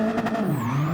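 Car drifting in Gran Turismo 7, held in second gear and initiated with the clutch, with engine drone and a rising, sweeping tire squeal running through the short, loud burst.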